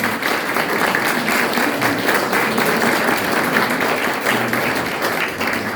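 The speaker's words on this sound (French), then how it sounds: "Vous avez bien fait de l'applaudir parce qu'il le mérite infiniment." A hall audience applauds a longtime orchestra conductor and culture official at an anniversary celebration of a cultural centre, dense sustained clapping filling the room, loud and steady throughout with no voices over it.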